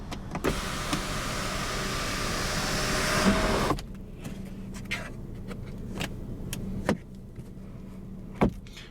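A car's electric sunroof motor whirs steadily for a few seconds and then stops with a soft thunk, followed by faint interior clicks and handling noises.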